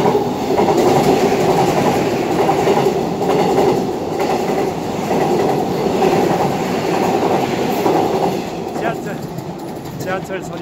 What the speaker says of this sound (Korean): 지하철 소리 때문에 중단했습니다.